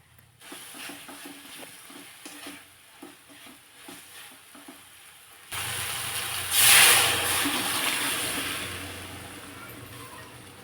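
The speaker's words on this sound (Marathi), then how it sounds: "हे तेल सुटेपर्यंत परतून घ्यायचं आहे" Tomato masala, ground raw, sautéed in oil in a pan: quiet scraping and stirring at first, then a loud, steady sizzle that suddenly takes over and stays strong to the end, with one brief hissing burst.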